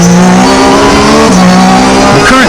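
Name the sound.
race car driven fast on a track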